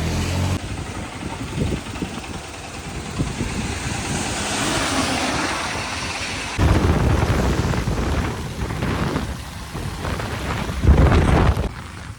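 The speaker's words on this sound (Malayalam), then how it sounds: "നല്ല മഴ." Heavy rain pours steadily as a broad rushing roar, with an engine rumbling underneath and a louder burst partway through, on a hill road near Kodaikanal.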